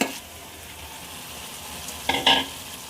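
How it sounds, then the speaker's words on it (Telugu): Chicken and ginger paste fry in a pan with a steady sizzle, with a couple of brief louder scrapes of stirring near the end; no talking. "ఇటు సైడ్ మనం పెట్టుకున్న చికెన్ కూడా మంచిగా ఫ్రై అయిపోయింది"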